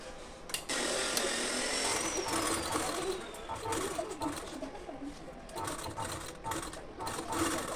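A sewing machine whirs steadily and close up as it stitches blouse fabric, running continuously with slight surges in its rhythm, while pigeons coo faintly in the background.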